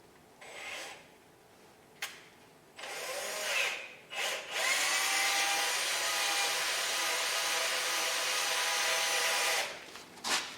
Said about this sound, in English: Let me get this down here on the lathe now.